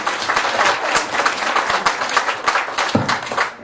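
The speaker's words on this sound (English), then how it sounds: "So please come have a round of applause for them in advance" Audience applause fills a stage hypnosis comedy show, a dense steady wash of many hands clapping at close range for nearly four seconds, with no voices over it.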